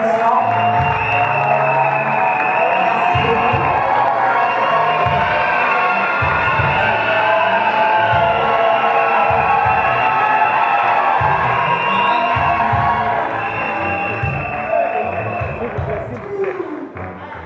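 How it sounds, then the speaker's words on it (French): A large ceremony audience applauds an honorary doctorate laureate with sustained loud clapping, cheering and whoops. Rhythmic drumming and crowd voices run underneath, and the noise eases slightly near the end. "veuillez l'encourager par vos applaudissements"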